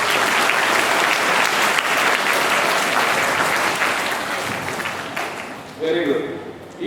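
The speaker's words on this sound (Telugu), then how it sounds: "గట్టిగా చప్పట్లు కొట్టాడు ఒకసారి" Schoolchildren at Sri Saraswati Shishu Mandir clap loudly together in a sustained burst during a chess board distribution, the applause fading toward the end as an adult voice begins speaking.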